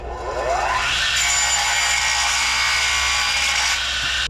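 A saw cutting through wood, with rasping strokes rising in pitch, continuous and close, alone without talk.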